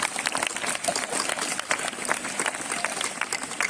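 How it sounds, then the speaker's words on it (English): An audience at a school inter-house quiz competition applauds a contestant, a steady crowd clapping of moderate loudness that fills the whole moment, with faint voices underneath. "Clap for her, everyone"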